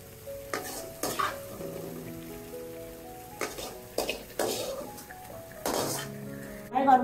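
Scrambled egg frying in a pan, with repeated scraping stirs and soft sizzling, utensil clinks against the pan in bursts, close and fairly quiet, a voice speaking at times.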